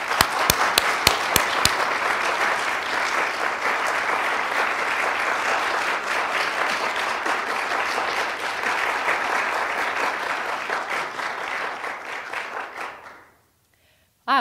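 An audience applauds at a tenure lecture as Dr. Tina Decker comes to the podium, with a few sharp claps up close at first and then steady, full clapping that fades out near the end.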